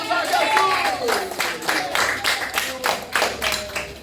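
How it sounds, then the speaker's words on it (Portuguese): A congregation at a church service in Girau do Ponciano, in the Alagoas backcountry, claps in a rough rhythmic beat, while voices shout and sing over the clapping. "Aplausos a Jesus!"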